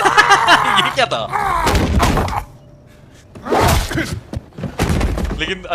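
A single gunshot rings out in Indiana Jones and the Great Circle, a loud thumping crack amid game dialogue and other sounds, followed by a quieter stretch and more talking.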